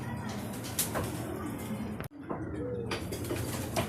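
Racing pigeons back from an afternoon toss in Pampanga coo and call close by against a constant outdoor hiss, with one brief dropout partway through.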